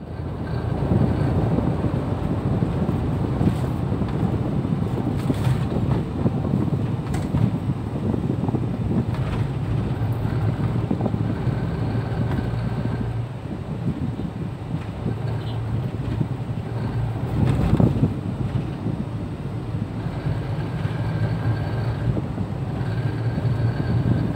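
A Daihatsu Xenia 1.0 car pushed to top speed, around 80 to 100 km/h, gives a steady, loud interior roar of engine, tyre and wind noise that runs without a break throughout.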